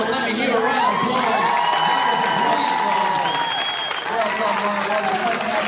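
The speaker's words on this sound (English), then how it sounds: "Ladies and gentlemen, let me hear a round of applause" Applause and cheering from the crowd at a horseboarding championship in the UK, a dense, continuous roar of clapping mixed with shouts and whoops that carries on throughout.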